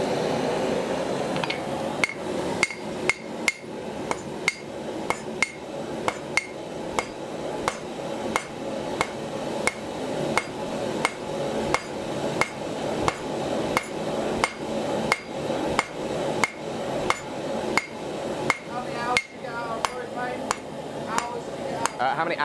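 A hammer strikes hot steel on an anvil bolted tight to its stand while calipers are forged, giving a long, regular run of sharp ringing blows in quick rhythm, fairly close and loud over a steady background roar.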